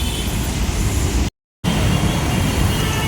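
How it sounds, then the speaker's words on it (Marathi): Rainy-day street traffic on the Ghatkopar to Churchgate route, a loud continuous engine and road rumble with a brief silent gap in the middle. "किती ट्रॅफिक केली बघा."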